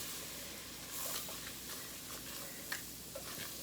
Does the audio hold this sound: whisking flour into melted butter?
yes